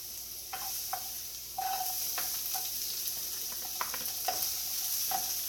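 Minced garlic and shallots sautéing in oil for stuffed zucchini boats, a steady moderate sizzle with intermittent scraping stirs and clicks of a utensil, no one speaking.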